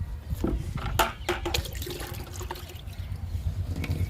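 Liquid plant feed is poured from a container onto potted plants after rain, producing close splashing and trickling water with irregular gurgles and a few knocks, continuous and fairly loud without speech.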